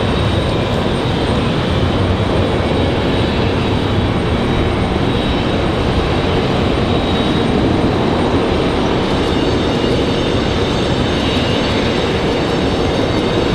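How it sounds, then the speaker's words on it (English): Breeze Airways Embraer E190 touching down on runway 23 left at Raleigh-Durham, a loud, sustained jet roar and rumble, close and continuous, with a slight shift in tone partway through and no voices. "And here comes Breeze Airways. Touching down at 23 left."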